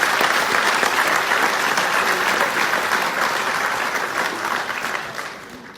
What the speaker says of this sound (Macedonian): Еден аплауз за вас, молам.